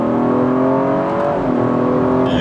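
A BMW F30 340i with a Dorch DS25 tune accelerates hard, its engine note climbing steadily and then dropping as a quick downshift hits. The sound is loud, close and continuous, with no talk.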